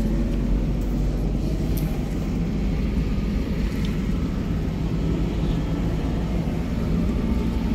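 A car engine hums as a learner drives during a driving lesson, a steady low rumble held at an even level throughout with no voices.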